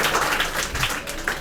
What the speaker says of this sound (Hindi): चलिए इनके लिए एक जोरदार ताली बजाइए आप लोग